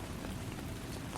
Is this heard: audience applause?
no